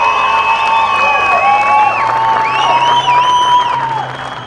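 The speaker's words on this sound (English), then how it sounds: "he gets an extra round of applause from Mike Crillin as well" A crowd at the 2010 Superstock TT cheers, whistles and applauds for winner Ian Hutchinson on his Honda. The sound is loud and lively throughout and fades slightly at the end.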